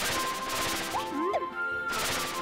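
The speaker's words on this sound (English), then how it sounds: "Can we break the glass here?" Kirby striking at glass in the video game Kirby and the Forgotten Land, a brief sharp impact and crash midway over bright, continuous game music.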